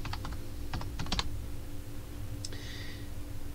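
A computer keyboard being typed on up close: a quick burst of light key clicks, a brief pause, then a few more keystrokes, with a soft background hum and no talking.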